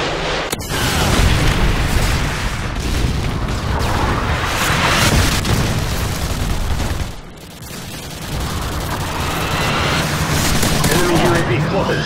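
A predator missile strike in the Call of Duty: Modern Warfare 2 ground war match on Derail brings loud, sustained booming explosions and gunfire that roar nearly nonstop, with a brief dip midway.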